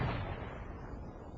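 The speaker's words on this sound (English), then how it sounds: "And it was around nightfall that I heard this explosion." Incendiary mine explosion in an audio drama: a close, heavy boom whose deep rumbling tail fades over about a second and a half, with no voices.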